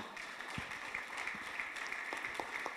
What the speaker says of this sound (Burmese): ထိုပုဂ္ဂိုလ်များအတွက်ကျွန်တော်တို့ဂုဏ်ပြုတဲ့လက်ခုပ်တီးပေးကြရအောင်